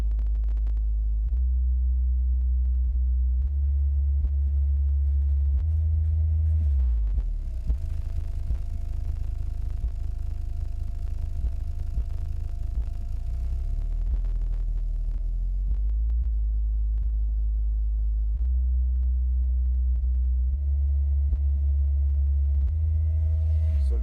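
An American Bass XO-1244 subwoofer driven by a Planet Audio AC 2500.1M amplifier plays deep low test tones, loud sustained booming hums that step down and back up in pitch over time, with a faint rattle during the lowest stretch.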